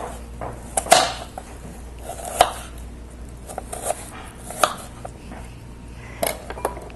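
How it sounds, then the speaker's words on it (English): Knife dicing an apple into small pieces on a cutting board, a series of sharp, irregular chops with brief pauses between them, close and alone. "so now that I've diced the apple"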